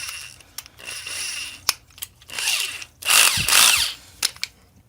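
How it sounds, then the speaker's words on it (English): A power drill fitted with a step bit whirs in bursts, enlarging a hole in a Jeep TJ rear bumper mount to bolt size. The drilling is close, with a louder grinding stretch near the end and scattered clicks between runs. "we're going to take our step bit now and we're going to bring this up to our bolt size."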